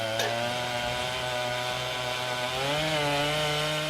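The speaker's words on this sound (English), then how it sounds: "the beautiful, relaxing sound of a chainsaw" A chainsaw cuts wood at a chainsaw art festival, its engine droning loud and steady close by, the pitch dipping and rising slightly as the chain bites, with no talk over it.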